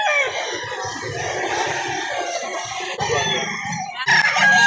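Chickens in Lipa City, Batangas clucking and crowing loudly and close by, a busy overlapping flock chatter with a crow rising near the end.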